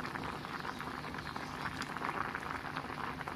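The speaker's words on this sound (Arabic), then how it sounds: "كاوكاو غادي نقليه في الزيت النباتيه" Peanuts fry in vegetable oil with a steady, dense sizzle and bubbling crackle, close by and continuous throughout.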